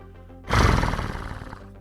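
A human voice imitates a horse, letting out one loud, rough whinny-like burst that trails off over about a second, alone and close up.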